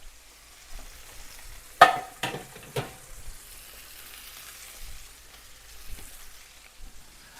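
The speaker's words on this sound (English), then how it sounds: "we've got a nice sear on our steak" A steak sears in a pan with a faint, low sizzle, joined by a few sharp clanks of utensils in quick succession near the middle.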